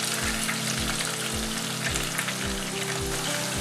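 Chopped onions fry in hot oil, a steady close sizzle joined by regularly spaced low scraping thumps as they are stirred.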